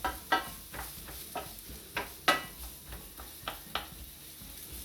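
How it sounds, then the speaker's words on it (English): Onions sweating in a pan for chicken and mushroom risotto give a quiet, steady sizzle, broken by regular soft taps and scrapes of stirring about every half second. "those onions are sweating"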